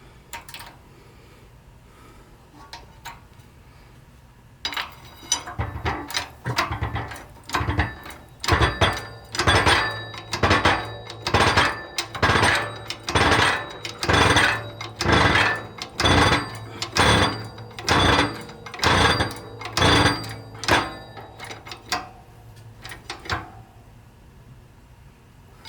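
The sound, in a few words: pressing a bearing onto a Ford tractor transmission mainshaft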